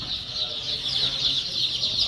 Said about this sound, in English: I'm just showing you how these meat birds look